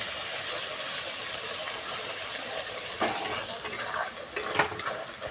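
Ground cumin, coriander, chilli and turmeric powders fry in a pan, a close, steady sizzle broken by scraping stirs and a few clinks of a spoon toward the end.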